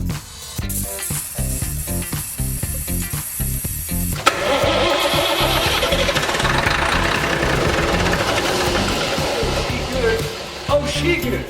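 An old bus diesel engine cranks in a rapid rhythmic pulse for about four seconds, then catches on easy start and runs loud and rough for several seconds before faltering near the end.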